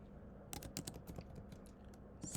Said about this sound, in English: So I'm going to type in exactly what it said.